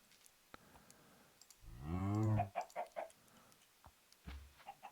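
Chickens in Minecraft cluck in a short burst of clicky, bird-like calls midway through, then a few fainter clucks, with no talk over them.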